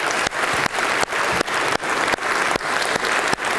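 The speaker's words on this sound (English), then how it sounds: "can we give one more just round of applause for" Church congregation at a First Baptist service applauds its volunteers; loud, close, continuous clapping from many hands, with sharp rhythmic bursts running throughout and no talking.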